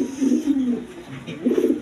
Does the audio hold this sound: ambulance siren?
no